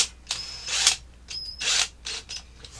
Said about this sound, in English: be very careful when putting these screws in